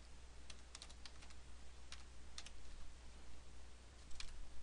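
Someone types a password on a computer keyboard while setting up a WordPress database user, with scattered bursts of light key clicks over a steady low hum, nearby and fairly quiet.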